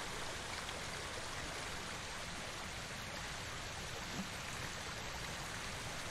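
A waterfall and stream in the Ghost of Tsushima video game pour as a steady, broad rushing hiss, constant and even throughout with no breaks, heard alone at moderate volume.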